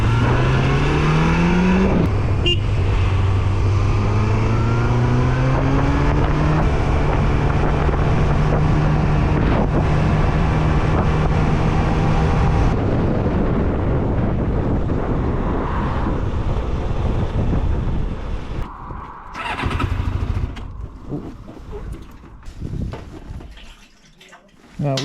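Kawasaki GPX 600R motorcycle engine, recently carb-rebuilt after sitting, revving up and then holding a steady idle, with wind buffeting the microphone, before it sputters and dies away toward the end.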